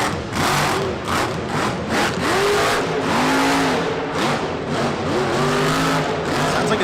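A monster truck engine revs hard and continuously at a Monster Jam freestyle run, rising and falling pitch sweeps with a whining edge hinting at a failing transmission, loud and close over arena crowd noise.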